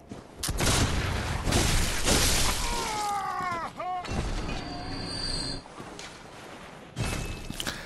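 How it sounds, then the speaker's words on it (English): Loud, booming bursts of rifle fire and impacts ring out in the Bloodborne video game amid gothic graveyard combat at Hemwick Charnel Lane, with several heavy blasts interspersed with clanking effects and a shrieking cry. "I believe I actually get shot a couple of times in this instance"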